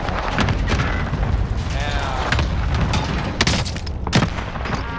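A rocket explosion in a first-person shooter video game, a loud booming blast amid constant gunfire and action noise, with a person talking over the game sounds.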